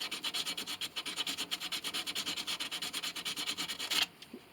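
Close, rhythmic back-and-forth rasping of 220-grit sandpaper rubbing on ebony hardwood of a cello, about a dozen quick even strokes that stop near the end.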